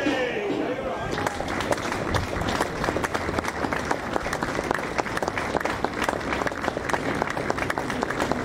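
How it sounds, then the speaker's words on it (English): A football crowd holds a minute's applause in a stadium, a sustained, dense wall of clapping from many spectators with sharp individual claps standing out and some voices mixed in. "We are holding a minute's applause"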